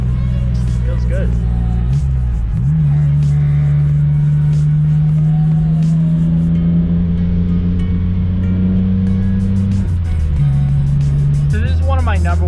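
A supercharged Geo Metro with a rusty body cruising in third gear, its loud, steady engine drone holding pitch with a brief dip after a shift, heard from inside the car while people talk over it.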